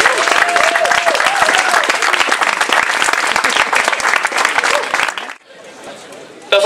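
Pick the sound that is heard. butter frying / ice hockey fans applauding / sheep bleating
ice hockey fans applauding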